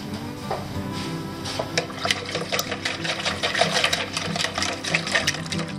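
A small whisk stirs a yeast and water mixture in a bowl for bread buns, making rapid, steady clinking and sloshing strokes close by that grow slightly louder toward the end.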